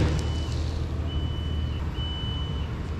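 A 110-ton knuckle-boom tree crane working on a big ash tree gives off intermittent high electronic beeps, two to three long tones over a steady low engine rumble outdoors.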